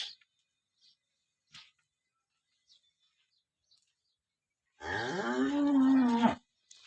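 A cow gives one long, loud, nearby moo at a village cattle market in Tharad taluka, Banaskantha, after several seconds of near silence broken only by faint, brief bird chirps.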